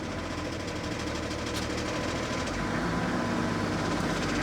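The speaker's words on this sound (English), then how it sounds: "As we hear, there is some knocking from the pulley, but it goes away immediately when you give a little bit of revs." A BMW E38 engine idles close by, a steady dense rumble with a fast, even ticking knock from the pulley running through it without a break.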